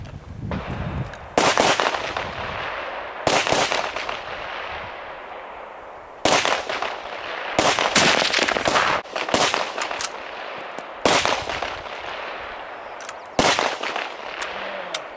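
A Mosin Nagant rifle fires a series of loud, sharp shots at irregular intervals, each crack trailing off in a brief echo, with some close handling noise between shots.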